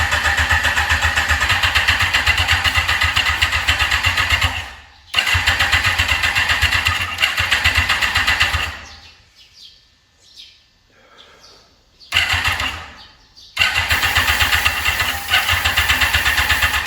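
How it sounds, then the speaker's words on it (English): A Kawasaki ZX-14R motorcycle engine cranks loudly and repeatedly without catching, in long bursts of steady starter whirring broken by short pauses and a quieter gap near the middle. "The engine cranks, but it refuses to start."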